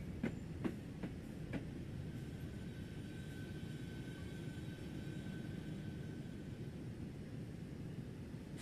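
A cattle train rumbles steadily nearby, a continuous low roar with a few sharp rail clacks early on and a faint whine running through.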